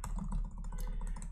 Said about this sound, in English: let me begin typing here